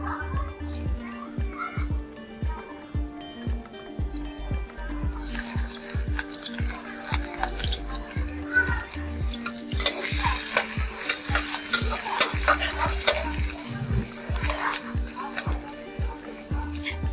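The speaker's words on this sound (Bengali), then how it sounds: "তেলটা গরম হয়ে গেলে পেঁয়াজ কুচিগুলো দিয়ে দেব।" Chopped onions hit hot oil in a pan and sizzle steadily, with stirring scrapes and rhythmic clatter building after the first few seconds, close and loud with no talk.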